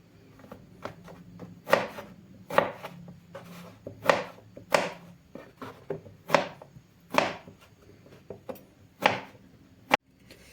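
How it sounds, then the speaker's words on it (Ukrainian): A knife chops eggplant into strips on a cutting board, about a dozen sharp, distinct strikes in an uneven rhythm, close and clear with no talking. "Надто дрібно баклажани нарізати не потрібно."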